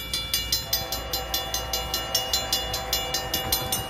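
Norfolk Southern northbound freight train approaching, a steady low rumble with a fast, regular clickety-clack of wheels over rail joints, fairly close and continuous, no voices.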